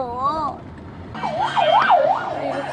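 An ambulance siren wails loudly and close by at a roadside market area at Km 8, first a brief rising-falling warble, then after a short gap a repeated swooping yelp.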